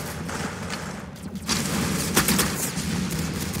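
Gunfire in a shooting video game, heard as dense bursts of shots over a constant rumbling game soundscape, growing louder after the first second and peaking with a sharp blast partway through.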